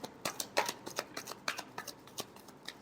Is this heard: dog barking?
no